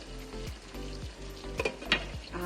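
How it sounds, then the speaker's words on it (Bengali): Potatoes frying in a pan with only salt, a steady soft sizzle with a few scraping stirs and brief clinks, close and moderately quiet, no voices. "সিম্পল খালি নুন দিয়ে ভাজছি আলুটা"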